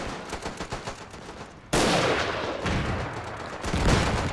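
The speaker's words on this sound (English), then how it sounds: "I keep shooting here." Rifle gunfire in a World War I battle video game: rapid cracks at first, then a loud continuous roar of massed firing and explosions that persists to the end.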